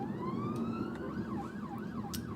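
A UK ambulance siren wails loudly and close by, starting with a rising tone and then switching into a fast, warbling yelp. Road traffic noise runs steadily underneath.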